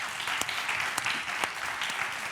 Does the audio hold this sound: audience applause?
yes